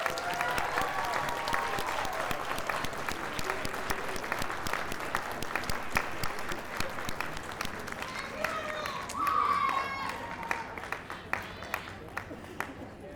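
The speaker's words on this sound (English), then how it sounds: "would you please stand up and accept a round of applause from your students?" Applause from an audience at a college pinning ceremony honoring family members, moderately loud clapping that continues with some crowd murmur and gradually thins into scattered claps toward the end.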